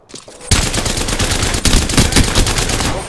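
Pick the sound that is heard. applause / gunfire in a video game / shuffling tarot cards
gunfire in a video game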